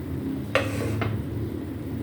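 A metal pressure cooker holding apple gourd (tinda) and mutton is opened: two clanking lid knocks about half a second apart, over a steady low kitchen hum.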